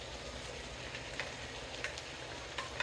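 Bok choy crackles and sizzles quietly in a frying pan, a soft steady frying hiss with a few light clinks and stirring taps, close and alone.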